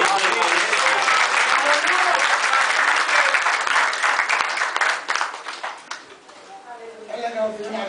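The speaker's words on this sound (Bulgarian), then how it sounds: "Нека да го пляскаме на Господа." A church congregation claps loudly and continuously in praise, a thick wash of applause that thins and fades toward the end as a voice comes back in.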